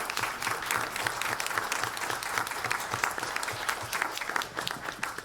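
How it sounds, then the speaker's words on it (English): Applause from a modest audience at a school board meeting, with individual claps audible in a brisk, uneven patter that stays fairly close and steady for about five seconds. "How about a round of applause for him?"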